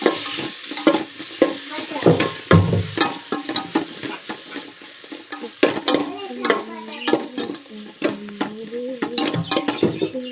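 Tomatoes go into a sizzling pan of Chempalli (red snapper) fish curry, with steady loud frying and repeated clattering strokes of a spoon stirring against the pan.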